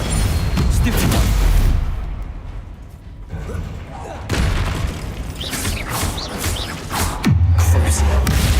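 A Bombarda explosion spell in the video game Hogwarts Legacy erupts amid busy combat, with heavy low booms and crackling bursts over a dense, loud battle mix, while a voice talks over parts of it.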